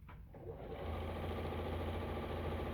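Sewing machine stitching at a steady, rapid mechanical rhythm, close and fairly quiet, running continuously after a brief start.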